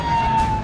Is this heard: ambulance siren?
yes